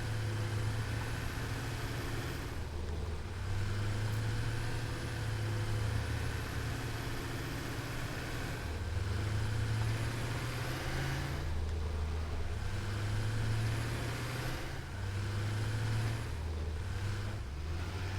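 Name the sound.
diesel truck engine in the video game Satisfactory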